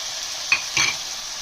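Tomatoes and potatoes frying in a pan, a continuous soft sizzle with a couple of brief stirring scrapes, close and steady, no voices.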